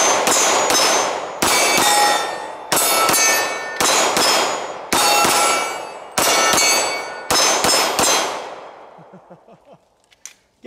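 Rapid strings of sharp pistol shots from a BUL Armory SAS II SL-AIR handgun at a shooting range, fired in several quick bursts with brief pauses, loud and ringing, ending in quieter clinks.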